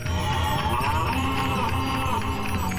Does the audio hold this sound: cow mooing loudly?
yes